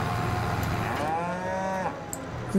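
Several cows moo in long, drawn-out calls that overlap one another, with a steady low background hum underneath, in Farming Simulator 22.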